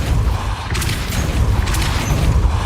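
Depulso spell effect from the Hogwarts Legacy video game, a loud, dense burst of booming, rumbling impacts with sharp cracks mixed in, sustained across the whole stretch.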